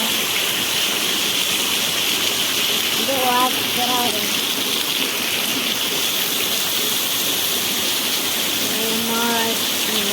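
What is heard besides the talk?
heavy monsoon rain in a village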